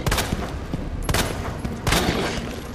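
Loud gunfire in Resident Evil 2: three sharp, close shots roughly a second apart, each ringing out over a dense, noisy game background, with no voices.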